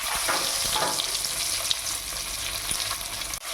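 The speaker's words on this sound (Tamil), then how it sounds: "கொஞ்சம் மஞ்சத்தூள் போட்டுட்டு இந்த முட்டையை போட்டு வறுத்து எடுத்துக்கலாம்." Boiled eggs frying in hot oil with turmeric, a loud, dense, steady sizzle with a few faint stirring scrapes, heard up close with no voices.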